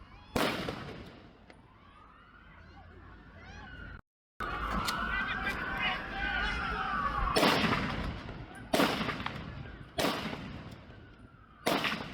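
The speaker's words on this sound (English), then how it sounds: "Fireworks." Fireworks go off in a series of sharp, loud bangs spaced several seconds apart, and crackling and whistling fill the gaps between them.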